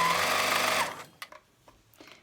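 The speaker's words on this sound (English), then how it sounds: "I'm going to put my first set underneath the sewing machine" A sewing machine stitching quilt rows runs in a fast, steady whir for under a second, then stops, followed by a few light clicks and taps.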